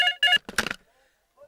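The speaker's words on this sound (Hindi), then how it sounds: "लगता है सलीम का कर्जे के लिए फोन आया है।" A telephone rings in a dramatic film scene: two short electronic ring bursts, then a brief voice-like sound and near silence.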